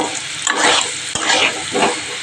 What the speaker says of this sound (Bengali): আর একটু লাল লাল করে ভাজবো আলুটা।